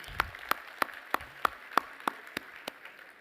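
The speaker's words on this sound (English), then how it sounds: "let's give another round of applause to the cooks for the meal" Sparse, evenly spaced claps ring out at a vegetarian banquet as the audience thanks the cooks, about ten sharp individual hits at a steady rhythm, fairly faint and alone without talk.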